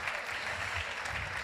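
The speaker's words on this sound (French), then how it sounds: "Vous pouvez l'applaudir ça, s'il vous plaît." Audience applause fills a Paris conference hall, a steady, dense patter of many hands sustained evenly throughout the short stretch without a break.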